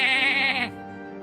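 A goat bleats loudly and close by in one long, wavering, nasal cry that breaks off abruptly, leaving a faint steady hum behind it.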